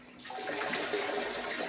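Water splashes and pours steadily for a cow on a farm, a short continuous gush that starts abruptly and runs close by without speech.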